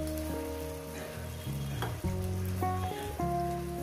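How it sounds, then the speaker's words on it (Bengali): Water from rinsing the spice bowl is poured into masala frying with onions for a Bengali fish and potato curry, producing a lively sizzle with sharp bursts and tonal hissing, close and fairly quiet. "মশলার বাটি ধোয়া জলটা আমি দিয়ে দেব।"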